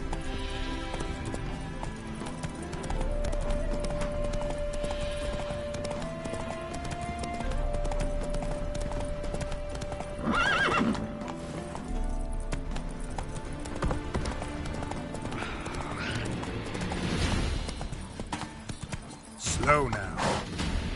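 Hoofbeats of a horse galloping in The Witcher 3: Hearts of Stone, a steady clip-clop with an occasional neigh, mixed under a game music score and a man's spoken lines.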